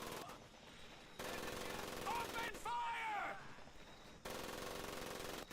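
Machine gun fire in the WWII game Medal of Honor: Pacific Assault, sustained bursts from a gun nest starting and stopping, with a whistling tone and voices heard in the middle.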